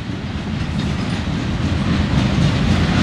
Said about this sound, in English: the first train in this train fail was CSX M369